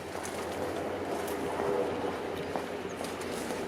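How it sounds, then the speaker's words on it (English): Distant rumble and rattle of a westbound GO commuter train passing in Toronto's Birch Cliff neighbourhood, steady and fairly faint, with outdoor ambience and a few bird sounds around it. "there's a westbound GO train over there."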